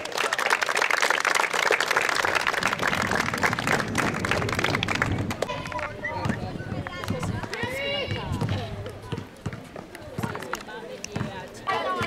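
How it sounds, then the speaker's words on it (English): Crowd applause for the organizers of a netball championship at a school sports event, loud dense clapping that fades after about five seconds, followed by talking over scattered background noise. "So I would like to give a round of applause to all those who organize for the netball."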